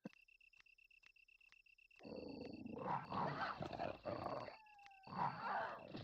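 Zombie dogs in the original Resident Evil 1 game: faint steady ticking ambience, then growling, snarling bursts of the dogs come in, swelling in two loud waves close up.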